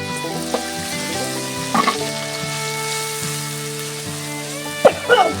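Spices fry in a kadai in a village home kitchen with a steady close sizzle, a few sharp stirring scrapes, and a sustained tonal hum underneath.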